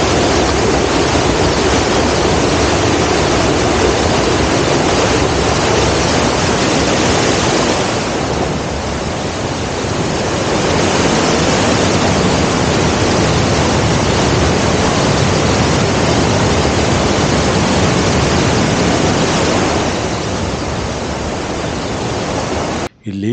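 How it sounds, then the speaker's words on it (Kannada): Small waterfall near Arbi Falls in Udupi, a loud, steady broadband rush of falling water that holds evenly throughout with only slight swells. "ಮತ್ತು ಇಲ್ಲೇ ಒಂದು ಸಣ್ಣ ಜಲಪಾತ ಇದೆ ನೋಡಿ"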